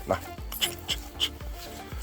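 A Central Asian Shepherd dog gives short whimpering yips and vocalizations in a rhythmic series, close by, while someone talks over it.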